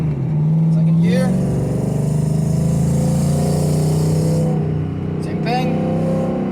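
Automatic 2003 Ford Mustang GT V8 in second gear holding a steady, loud droning rev on two-step launch control, pitch rising slightly before dropping off, recorded close from inside the car.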